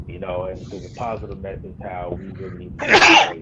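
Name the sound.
sneeze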